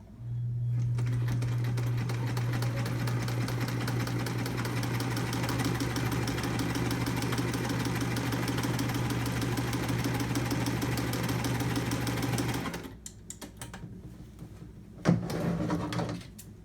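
A Kenmore Sears 148.14220 sewing machine stitches steadily for about twelve seconds with a close, even mechanical hum and rapid clatter, then stops; a brief knock follows afterward.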